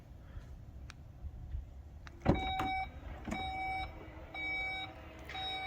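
A third-generation VW Touareg's powered tailgate hatch whirs as its motor runs, with a sharp thump and a series of electronic warning beeps, heard close and alone.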